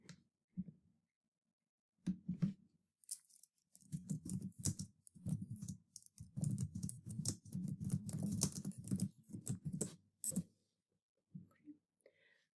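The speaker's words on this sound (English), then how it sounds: "I can type them into the chat box" Someone types on a computer keyboard into a chat box, with bursts of quick, close key clicks separated by short pauses.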